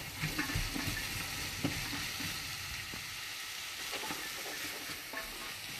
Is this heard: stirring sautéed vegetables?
yes